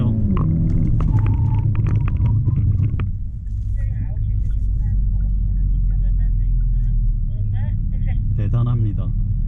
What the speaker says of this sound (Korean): 이제 엑셀. 오, 진짜 가속력이 장난이 아니에요.